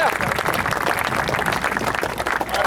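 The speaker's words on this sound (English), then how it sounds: "You should all give yourselves a round of applause." An audience at a Marshall Space Flight Center event applauds a student aeronautics rocket team, with loud, dense, steady clapping filling the whole stretch and a few voices mixed in.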